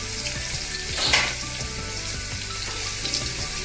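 Onions sizzle in a hot pan for a crab dish, with a soft, steady crackle and a brief swell of stirring noise about a second in.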